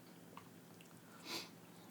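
A single short, soft sniff around the middle, alone against quiet background hiss.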